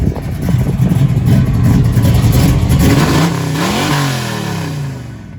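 A 1967 Camaro with a small-block V8 revs up loudly and close, the engine climbing and falling through several throttle blips before easing back toward idle.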